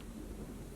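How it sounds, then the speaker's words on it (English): A large storm outside with wind and a faint, distant low rumble; a steady, muffled roar at low level throughout, with no talking. "if you can hear the winds outside, there's a pretty big storm happening"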